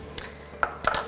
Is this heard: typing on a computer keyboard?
no